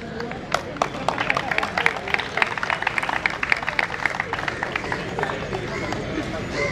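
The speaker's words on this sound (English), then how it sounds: "a big round of applause for Mr. Solanki" Audience applause at a prize ceremony for a memorial sports tournament, a steady patter of many hands clapping from a sizeable crowd, sustained throughout with some voices mixed in.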